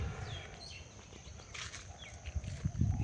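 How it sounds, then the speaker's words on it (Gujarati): Parrots and other birds chirp faintly and at a distance around a huge banyan tree more than 200 years old, with short high calls scattered over a low outdoor rumble and some wing flutter. "પોપટના અવાજો બધા જાત જાતના પક્ષીઓના અવાજો"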